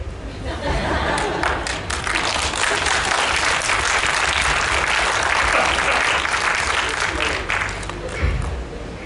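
Sustained audience applause from shareholders at a company meeting, dense and steady for about nine seconds with some crowd chatter mixed in, swelling slightly near the end.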